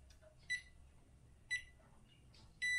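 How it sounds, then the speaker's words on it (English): A JK-BMS battery management system sounds three short electronic beeps on power-up at roughly one-second intervals, high-pitched and clear over a quiet background hum. "So we hear the beeps."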